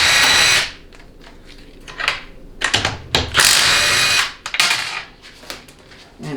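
Ratchet wrench clicking in quick bursts while loosening a 13 mm bolt on a 4L60E automatic transmission during teardown, close and loud, with pauses and clanks of metal parts between the strokes.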